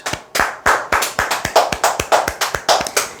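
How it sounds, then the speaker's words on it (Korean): A small audience claps at a sales seminar, giving brisk, evenly spaced applause of about a dozen sharp hand claps over a few seconds, close and clear with no talking. "박수 한번 치시죠."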